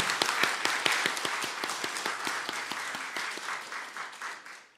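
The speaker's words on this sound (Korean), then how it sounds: "한번 박수 한번 세게 치십시오." A church congregation claps loudly during a Sunday worship service, with dense, sustained applause and sharp individual claps that gradually taper off over several seconds.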